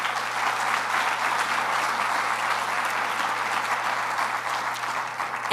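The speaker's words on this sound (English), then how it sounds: "Please accept appreciation and applause for these 4 young individuals." Audience applause at an awards ceremony for young art history students, a steady, even wash of clapping from a crowd sustained throughout at moderate distance with no talk over it.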